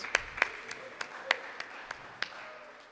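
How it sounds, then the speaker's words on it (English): Audience at an end-of-the-line concert applauding cyclists who rode from Michigan: a thin, scattered smattering of individual claps, close and uneven, rather than a full ovation. "So let's give them a big round of applause."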